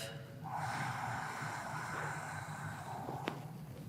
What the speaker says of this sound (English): Deepen your breath.